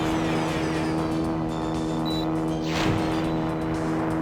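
A loud, steady car engine drones through a Sonic Adventure driving sequence, with a sustained low hum and a brief swooshing pass near the end, no voices.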